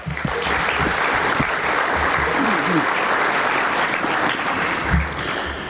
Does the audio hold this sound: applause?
yes